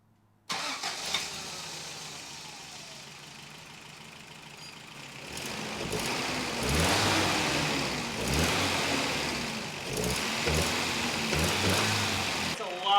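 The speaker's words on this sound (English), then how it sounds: "Sounds like the valves might need adjusted." Toyota pickup engine fired up after a distributor adjustment, a sudden start followed by a steady, slightly uneven running idle with rhythmic surges, close by in a garage.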